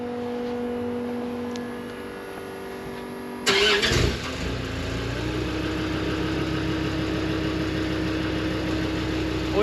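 Land Rover Discovery 2 (L318) with a newly fitted exhaust cranks and fires up around three and a half seconds in, then settles into a steady, deep idle heard from a few steps back.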